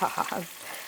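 Cumin hits hot ghee with a brief crackling sizzle that quickly settles into a soft, fading hiss.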